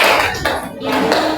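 A classroom audience claps briefly for a student group after its presentation, a short burst of applause with some voices mixed in.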